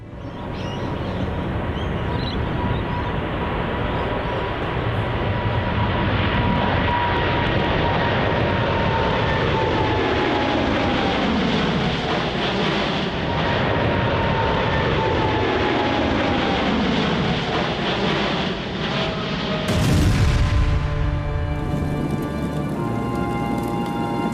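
A loud, steady roar of an Air India airliner's jet engines, sweeping and shifting in pitch over about twenty-four seconds, heard up close with no talking.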